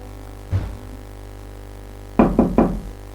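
Knocking on a door in a dark horror scene: one dull knock, then a pause and three quick knocks in a row, close and clear over a steady low electrical hum.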